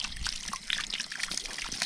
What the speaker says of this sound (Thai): นี่มาดูน้ำตกนี่ดีกว่า น้ำตกก็ตก